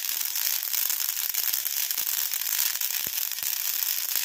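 Small mustard seeds splutter in hot oil for a homemade hair dye, a dense, continuous crackle of rapid tiny pops heard close up with a few sharper snaps.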